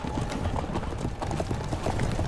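Galloping armored horses in the Third Age: Total War strategy game, a fast, dense patter of hoofbeats at moderate distance, steady and unbroken for a couple of seconds with no talk.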